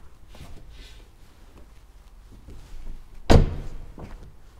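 A car door on a 2022 Mercedes CLA 45 S AMG with frameless coupe-style doors shuts once with a single solid thud partway through, surrounded by quiet interior room tone.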